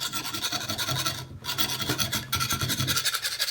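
Steady raspy scraping strokes, like a blade being sharpened, repeating continuously with two brief pauses, close and fairly loud.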